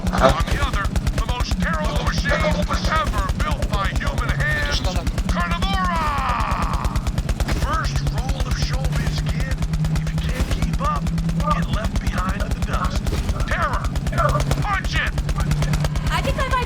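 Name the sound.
gunfire in a video game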